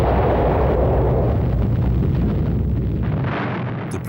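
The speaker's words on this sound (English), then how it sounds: "2 days later, on August the 9th, Fat Man was dropped on the major military port of Nagasaki." A massive atomic bomb blast, the Fat Man plutonium bomb dropped over the military port of Nagasaki, roars as a loud, sustained rumbling explosion that stays heavy throughout and fades slightly near the end.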